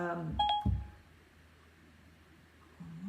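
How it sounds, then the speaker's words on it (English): A phone chirps a short series of electronic beeps and tones, fairly close, followed by near-silence with only faint room noise. "That was my phone on Siri."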